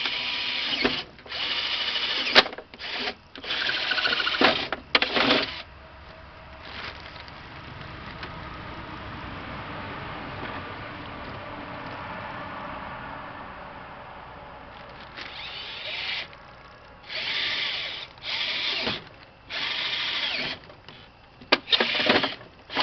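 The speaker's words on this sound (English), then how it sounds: "We start by drilling new holes for the bicep piece" Power drill boring two new holes for the bicep piece of a Reach Niche mount, loud whirring bursts starting and stopping near the mic, with a quieter steady stretch in the middle.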